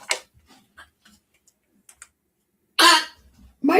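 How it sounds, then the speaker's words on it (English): A few sharp, raspy dog coughs, one loud burst and another at the end, separated by quiet with small clicks and ticks. "My dog is coughing."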